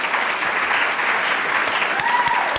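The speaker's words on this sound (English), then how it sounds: "Please join me in applauding Dagmawi Woubshet and Lyrae Van Clief-Stefanon." Auditorium audience applauding two speakers introduced at a university lecture event, a dense, even wash of many hands clapping steadily throughout, loud and uninterrupted.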